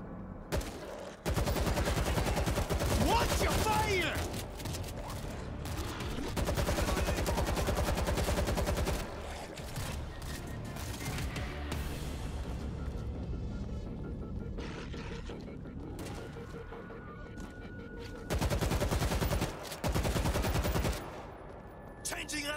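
Sustained, loud automatic gunfire and rattling shots in the zombie shooter World War Z, with dense bursts that ebb and return, and voices talking over the battle.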